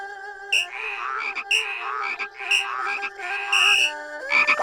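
Frogs croak loudly and continuously during a frog race in the video game Shenmue 3, overlapping repeated ribbit calls pulsing in quick bursts over a steady tonal game music bed, close and without talk.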